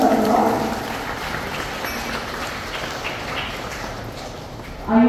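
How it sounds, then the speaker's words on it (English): Applause from a ceremony audience marking a birthday celebration at the Kolkata GPO, a dense crowd of clapping that holds steady and fades slightly before a fresh burst at the end. "Great round of applause"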